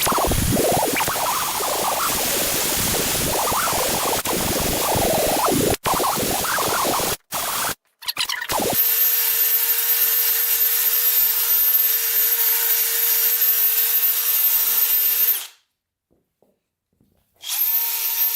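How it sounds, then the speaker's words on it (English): A wire wheel brush scrubs a vintage dirt bike exhaust pipe with harsh, loud grinding and scraping, broken by brief pauses, then a steady power-tool whine runs on alone before stopping. "All right, we got the wire wheel and the brush."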